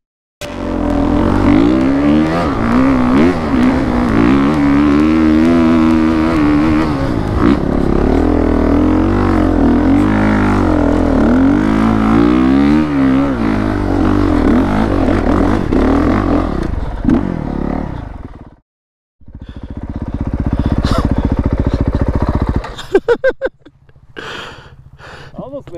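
An off-road motorcycle in Johnson Valley, whose clutch cable has snapped, roars loud and close as it circles, its engine droning and rising in pitch, then cutting out briefly before revving again with rattles.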